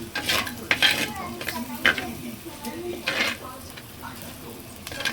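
Onions fry in a pan while a spoon stirs them, producing a soft background sizzle broken by several sharp scraping, clinking strokes against the metal at an uneven pace.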